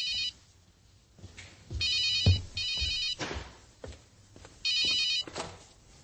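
Telephone in a home ringing in repeated electronic bursts, with loud trilling rings separated by short pauses and some low background knocks and movement between them.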